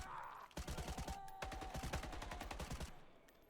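Gunfire in The Day Before video game trailer, a third-person shooter: rapid automatic bursts of shots in two long runs, loud and dense, with a brief gap between them.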